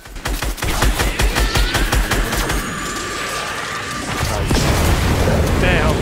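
Gunfire in Fortnite while shooting a tree down, rapid bursts of shots cracking in quick succession early on, then a steadier roar of battle noise with mechanical clatter and faint talking underneath.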